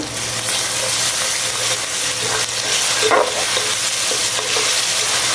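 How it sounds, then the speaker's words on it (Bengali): Onion curry with salt is stirred and mixed in a hot pan, producing a constant dense sizzle and hiss with brief scraping stirs, loud and close. "এখন একটু মিশাই দিব।"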